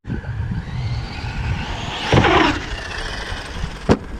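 Arrma Outcast 6S RC car hitting a jump outdoors, its electric motor whirring and revving with a rising whine, a burst of tire scrabble midway and a sharp thud of landing near the end.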